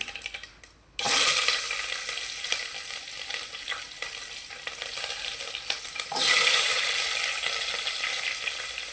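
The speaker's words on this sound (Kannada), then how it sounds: "ಈರುಳ್ಳಿ ಹಾಕೊಳ್ಳೋಣ ಹಚ್ಚಿಟ್ಕೊಂಡಿದ್ವಲ್ಲ" Sliced onions dropped into hot oil in a pan with curry leaves, erupting into a loud, bright sizzle, with stirring scrapes and a second surge of frying near the end.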